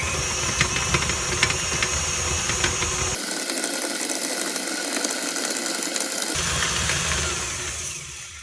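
A stand mixer with a paddle beats buttercream icing at medium to high speed, giving a loud, steady mechanical whir with a faint rhythmic clatter that shifts tone twice. No one speaks.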